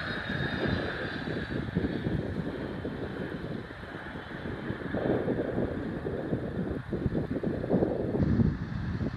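An airplane at Toronto Pearson Airport during snowy winter plane spotting, a steady broad engine roar close by, rising slightly toward the end with wind buffeting the microphone.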